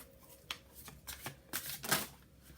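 Tarot cards being shuffled by hand, a close riffle of soft flicks and slides building in bursts over a few seconds.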